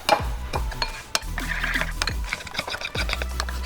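Protein pancake batter stirred with a pinch of salt: rhythmic, close strokes and clinks of a utensil against the bowl, with soft low thumps repeating steadily throughout.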